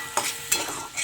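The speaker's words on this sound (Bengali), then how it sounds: "মাছটা তারপরে দেওয়ার পরে ওটা ভালো করে আমি কষিয়ে ফ্রাই করে নেব।" Fish frying with spices in hot oil, a bright continuous sizzle with two sharp spatula scrapes or stirs, close and loud, no talk.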